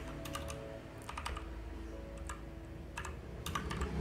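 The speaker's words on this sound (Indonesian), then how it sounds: "Caranya adalah dengan mengetikkan" Computer keyboard keys are tapped in quick irregular clusters, close and crisp, as a web address is typed, with brief pauses between bursts.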